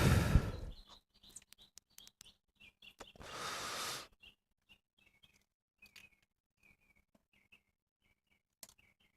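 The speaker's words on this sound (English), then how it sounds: "These birds sound like a Nextel phone." Small birds chirp in short, sharp bursts outdoors, scattered with pauses between calls, with a couple of louder rustling or clicking noises near the start.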